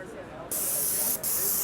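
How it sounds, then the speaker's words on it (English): A Graco paint sprayer's loud hissing spray bursts on, cuts out briefly, then resumes as a steady forceful straight stream to unblock the tip, close by. "it shoots out a straight stream, it'll unblock the tip"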